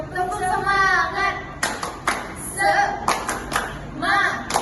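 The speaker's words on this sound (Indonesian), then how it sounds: "Ya, adik-adik kita mau tepuk semangat dulu ya" Children at a Sunday school session clap in short rhythmic bursts of a group clapping game, the hand claps close and sharp, alternating with children's voices.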